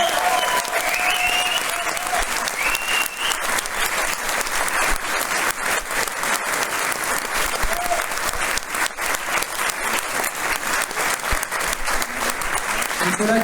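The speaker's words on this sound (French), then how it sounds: "Je vous demande d'applaudir très fort Nicolas Martin à la batterie." A concert crowd in Montrichard applauds the drummer with loud, continuous clapping that stays strong and even throughout, with faint voices and cheers mixed into the sound.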